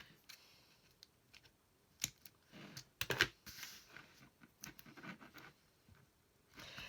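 Adhesive tape being pulled and pressed onto plastic sheet protectors, giving a run of soft scratchy tears, crinkles and taps, close and fairly quiet, with a louder ripping burst near the middle.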